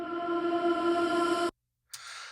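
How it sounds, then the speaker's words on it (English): A frozen, reverse-style reverb tail swells as a sustained, shimmering wash in a pop track's pre-chorus, holding steady before cutting abruptly to silence, then a brighter texture returns. "There's a little kind of like frozen, like reverse reverb tail that comes into our pre"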